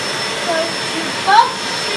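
A Dyson DC05 Motorhead upright vacuum cleaner runs steadily on a rug, its broadband motor whine continuous and close, with a brief louder swell partway through as it is pushed. Voices are faint or absent.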